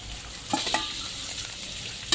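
Pork stir-frying in oil in a pan over a low flame, a steady broadband sizzle with a few brief louder spatters near the start and end, close and continuous with no voices.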